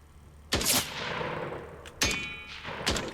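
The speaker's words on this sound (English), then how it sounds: "Who's shooting at me?" Gunfire in the first-person video game Better Than Dead: three sharp, loud shots spaced about one and a half seconds apart, each with a ringing, decaying tail and no talking.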